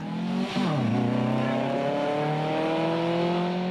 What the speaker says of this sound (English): Within seconds, the cars can reach speeds of over 100 miles an hour.